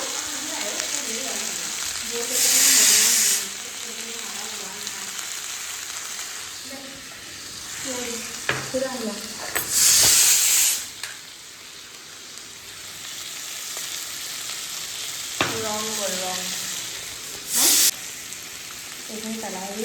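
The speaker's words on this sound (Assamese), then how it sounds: "এতিয়া তেলখিনি গৰম কৰিছোঁ, আলুখিনি দুবাৰ কাৰণে চিম্পলকৈ ভাজি দিছোঁ।" Potatoes fry in hot oil with a continuous crackling sizzle that swells in bursts as they are stirred, heard close up under intermittent talking.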